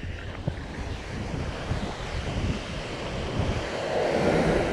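Ocean surf rolls onto a windy Bahamas shore near a creek, a constant broadband roar of waves mixed with heavy wind buffeting on the microphone and no speech.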